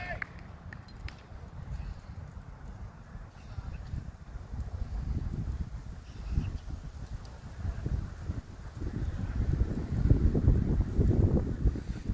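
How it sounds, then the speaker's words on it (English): Gusty wind blows across an open cricket field on a bright day, a steady low rumble buffeting the microphone that swells louder and rougher toward the end. "a bit windy though"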